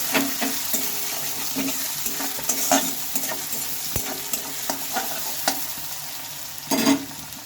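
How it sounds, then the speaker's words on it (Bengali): Stirring onion and green chillies in a pan for a potato and cauliflower dish, a continuous close sizzle of frying broken by repeated scraping strokes of a spatula against the pan, one louder knock near the end. "এবার এটা একটু ভালোভাবে নেড়ে ফেড়ে নেব"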